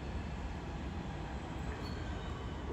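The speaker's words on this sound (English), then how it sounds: "Arriving now is the 11:57 Southeastern service from London Victoria to Orpington." Southeastern passenger train, London Victoria service, arriving at Bromley South station on the South Eastern Main Line: a steady, loud rumble of wheels and carriages rolling in close by, with a faint high squeal partway through and no talk.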